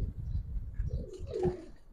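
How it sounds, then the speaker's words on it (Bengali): A pair of Giribaz tumbler pigeons coos nearby, a low murmuring throb building to a fuller coo near the end, with a faint flutter of higher chirps. "সম্পূর্ণ তুতার ভিতরে কবুতর, অনেক সুন্দর একটা পেয়ার"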